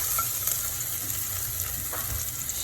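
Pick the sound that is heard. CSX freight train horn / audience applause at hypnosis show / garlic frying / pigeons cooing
garlic frying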